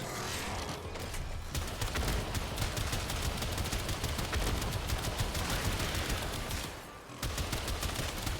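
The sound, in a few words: arch gun firing in Warframe video game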